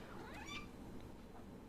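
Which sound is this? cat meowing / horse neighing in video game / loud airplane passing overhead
cat meowing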